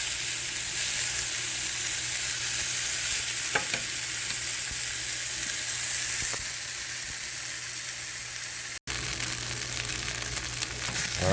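Wild mushrooms and noodles sauté with sesame oil and soy sauce in a pan, giving a steady, close frying sizzle throughout with occasional stirring clinks and a brief dropout near the end.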